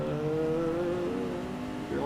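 A racing car engine in Gran Turismo Sport holds a steady high drone, its pitch dipping slightly and then rising again near the end as the car moves to overtake.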